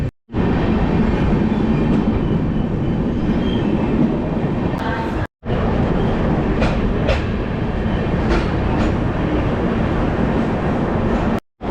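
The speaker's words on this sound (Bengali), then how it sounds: "আমরা চলে এলাম নর্থ বিহারের একটা অত্যন্ত গুরুত্বপূর্ণ রেলওয়ে স্টেশন মুজাফফরপুর জংশনে" A train rumbling loudly and steadily at Muzaffarpur Junction railway station in North Bihar, its continuous roar broken by brief cuts, with faint squeals and rattles on top.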